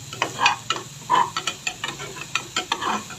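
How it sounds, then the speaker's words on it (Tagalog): Star margarine sizzles in a pan as the sauté starts, with a utensil scraping and tapping in irregular close strokes over a light frying hiss. "Star margarine, tinutuno ko po ang star margarine. Gisa-gisa lang."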